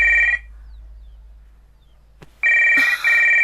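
An electronic telephone ring sounds, breaks off into near silence with a faint tick, then rings again loudly, with a brief higher chirp over the second ring.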